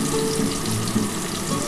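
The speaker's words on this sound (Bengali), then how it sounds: "অল্প একটু নুন দিয়ে আমি এটা ভেজে নিচ্ছি" Spices, chili powder and a little salt fry in hot oil for a steamed duck egg dish, making a continuous close sizzle with faint stirring and no voices.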